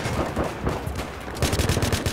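Rapid bursts of automatic gunfire in a multiplayer shooter game match, dense overlapping shots that grow louder and more frequent in the second half, with no talking.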